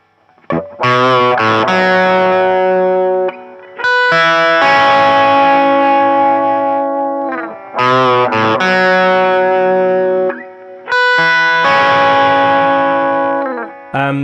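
An electric guitar plays loud, distorted chords for a song part, with a shimmering chorus-like effect and reverb. Bright strummed chords ring out in repeated phrases with brief gaps between them.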